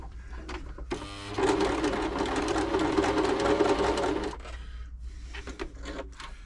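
A Bernette b35 domestic sewing machine stitches a buttonhole on a short stitch setting without a buttonhole foot. A brief start gives way to about three seconds of loud, steady, rapid needle whirring, then soft handling clicks.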